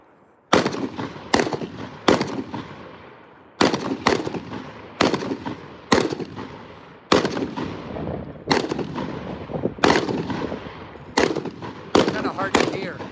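Repeated heavy booms from mortar firing at the Best Ranger Competition mortar range, about fourteen sharp blasts in irregular bursts, each decaying into a rolling echo, loud and distant-sounding.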